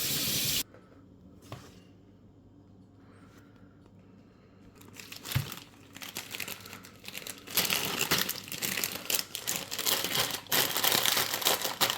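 Food with cheese and honey is being wrapped and packed, giving close crinkling and rustling of wrapping material that starts faint and grows into dense, loud crackling.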